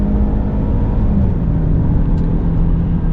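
A 2020 Range Rover Evoque SE four-cylinder engine pulls from low speed with a loud, steady drone, heard from inside the cabin along with road noise.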